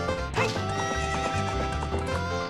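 Horse from Zelda: Ocarina of Time whinnying and clip-clopping, a loud game neigh over steady rhythmic hooves with background game music throughout.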